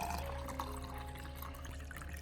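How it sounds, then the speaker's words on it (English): Water pours steadily into a bottle of mashed bananas, a faint continuous splashing and trickling with a slight filling tone over quiet background hum. "Then we will add more water to the bottle,"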